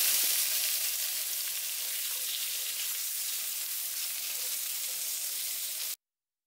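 Carrot chunks cook in a pan with a steady, bright sizzling hiss that stays even for about six seconds before cutting off abruptly.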